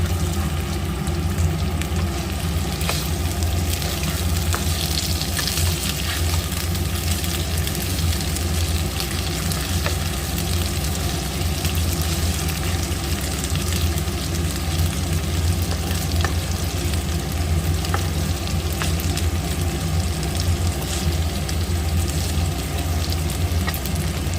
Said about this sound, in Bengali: এখানে দেখো কিছু মাছ আমি মশলা দিয়ে আর কি ভাজা করে নিচ্ছি